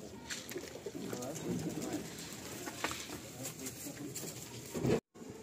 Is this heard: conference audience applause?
no